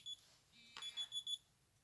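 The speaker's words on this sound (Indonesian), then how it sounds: "Alarmku bunyi." Alarm clock going off during a predawn meal at about 3:30, a faint series of short high electronic beeps in a quick burst, soft and distant in a quiet room.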